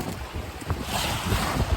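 Strong wind rushes over a sailboat at sea among large waves, a loud, gusty roar with buffeting on the microphone and splashing water underneath, continuous and close.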